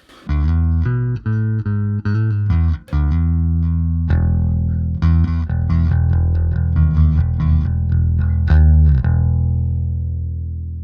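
Bass guitar played through an amp with a clean tone, a run of plucked notes and short phrases ringing out alone, the last note left to decay.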